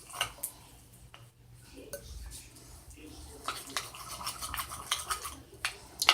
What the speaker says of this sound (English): Now we got to stir this good stuff together.